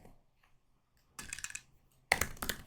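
Two short bursts of keyboard typing on a computer, entering text into a web form field, close and fairly loud with clicks in quick succession after a quiet pause, no talk.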